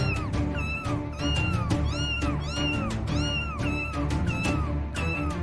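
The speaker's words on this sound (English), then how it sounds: "A poor little abandoned kitten got stuck in the sewer and couldn't get out." A small abandoned kitten trapped in a sewer meows loudly and repeatedly, high rising-and-falling cries coming in quick succession, close up and insistent, with no talking.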